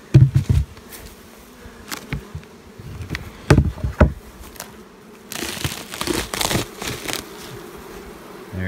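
Honey bees buzz around an open hive, a close, continuous hum broken by sharp crinkling and knocking sounds of frames being handled, with a louder burst of activity near the end.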